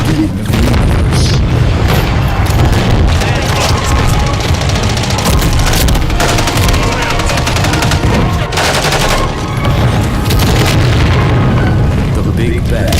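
A sustained cinematic explosion effect for the Big Bang, a dense roaring rumble with heavy booming low end and crackling bursts layered throughout, loud and continuous with a voice speaking over it.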